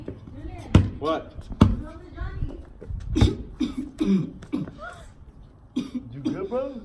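A person coughing during a fake blood cough prank, several harsh close coughs and throat clearing in bursts, mixed with excited voices talking around them.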